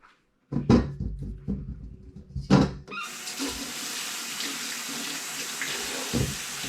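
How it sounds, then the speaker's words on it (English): Cold tap water runs steadily into a kitchen sink while a large chayote is rinsed under it. Two short knocks come first, then a continuous close splashing stream. "Just wash them pretty good with cold water."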